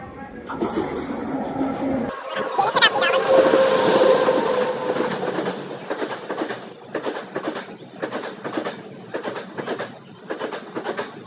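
A train at a busy railway station rumbles and clatters, swelling then giving way to a rhythmic series of wheel-on-rail clacks, with voices and station bustle around it.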